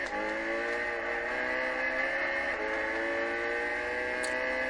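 A McLaren MP4-12C engine in the racing game Gran Turismo 6 drones with a steady, thin, tonal whine that climbs gradually, heard alone at moderate volume.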